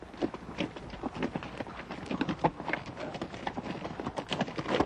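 Horses or mules walk along a Grand Canyon trail, their hooves making an irregular, close clip-clop of steady steps over a soft outdoor background.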